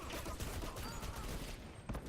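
Gunfire in the online shooter Dirty Bomb, a dense, continuous rattle of shots heard at a steady loud level and blending into a wash, with no clear speech over it.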